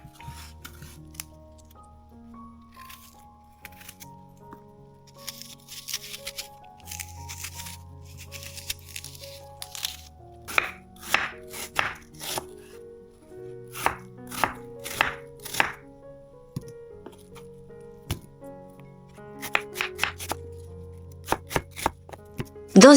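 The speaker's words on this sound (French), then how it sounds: "Je les épluche, je retire les pépins et je garde les épluchures pour mon compost" Apples being peeled and cored for gluten-free, no-added-sugar apple-cinnamon muffins, with repeated short knife scrapes and cuts that grow denser in the second half, set against steady background music.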